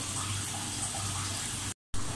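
A little water poured into a dish of steamed ginger seabass with lime juice, a steady near splashing trickle running for almost two seconds, then a brief pause before it resumes.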